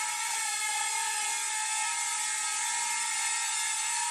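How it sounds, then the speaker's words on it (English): A tiny Simrex X300C mini drone hovers and pivots nearby, its small propellers producing a steady high-pitched buzzing whine with stable harmonic tones, continuous and unbroken without speech. "Pivoting the drone, I should say."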